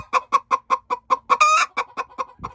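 Hens cluck in a farm coop with nesting boxes, a quick even series of loud close clucks with a brief squawking burst in the middle, no talking over them.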